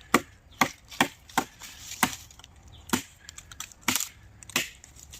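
A knife chops through a freshly caught fish, with about a dozen sharp, irregular thwacks over a few seconds, close and clear against a quiet background.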